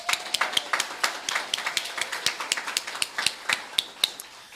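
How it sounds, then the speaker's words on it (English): A modest audience at a community meeting claps in sparse, uneven rhythm, a scattering of individual hands rather than a full roar, sounding close and fairly quiet. "One more round of applause."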